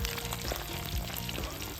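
Fish cooks on a pan over an outdoor wood fire beside a river, a dense loud sizzle and crackle filling the short stretch as it is turned, with no talk.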